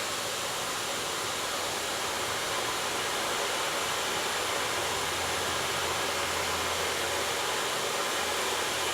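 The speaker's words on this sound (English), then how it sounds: "it's drying the hair, but it's not blowing the hair apart" A hair dryer blows steadily and loudly while drying a client's hair, a constant close rushing airflow with no break and no talk.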